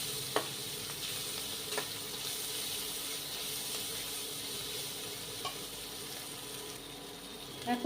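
Chicken and vegetables frying in a pan for chicken fried rice, a steady soft sizzle with a few light utensil knocks, close and alone.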